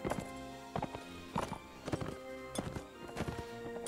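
A white horse's hooves clip-clop in Mount and Blade Warband over rough uphill terrain, a string of loud, close, uneven thuds in quick bursts over a steady game music and ambient bed.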